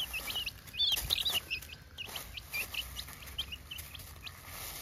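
Chicks and chickens in a village yard chirp and cluck while being fed grain, with a flurry of high peeping calls early on and sparser calls after, mixed with light scattering and handling noises nearby.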